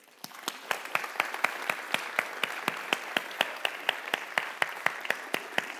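A room of students at a conference rehearsal workshop gives themselves a round of applause, steady rapid claps from a modest group at moderate volume, with individual hand strikes clearly standing out.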